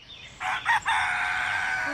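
A single rooster crows once, clear and fairly close, with a short opening note and then a long sustained call, and nothing else around it.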